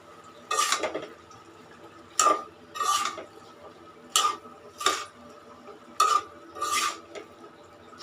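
Chopped water lily stems stirred in a pan with chopped green chilies, a utensil scraping and clinking against the metal in about a dozen distinct strokes, close and clear over a faint sizzle.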